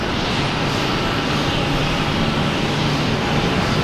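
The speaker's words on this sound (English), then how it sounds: "next arrives American Airlines coming in from Columbus," An American Airlines Embraer E175 jet arriving at Boston Logan, its engines giving a steady, loud, broadband roar that stays even and close throughout, with no talk over it.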